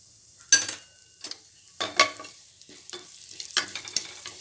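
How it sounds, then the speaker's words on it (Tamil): Bursts of crackling and sizzling as ghee heats and spices fry in a hot pan, a few sharp spurts separated by quieter gaps, close by. "நெய் புகை வர காய விடாதீங்க"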